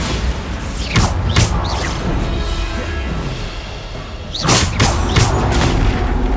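Bombarda blasting spells explode in Hogwarts Legacy, heard as a couple of sharp booming thumps, a lull of rumbling ambience, then another pair of heavy blasts.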